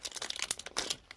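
Paper packaging of a fan mail parcel crinkles and tears in quick, close bursts of rustling, opened partly one-handed, with no voices.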